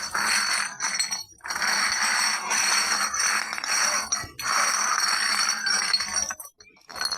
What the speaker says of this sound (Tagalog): Maraming bote ito.